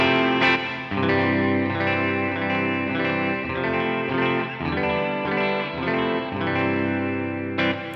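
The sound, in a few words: guitar through JET Revelation big thick hall reverb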